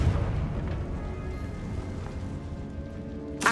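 A Confringo blasting spell goes off in Hogwarts Legacy, a dense rumbling burst that fills the whole stretch with a low roar, then a sharp crackling flare near the end, with no voices.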